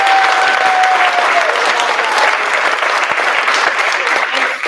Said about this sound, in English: I would love to have one more collective round of applause for these amazing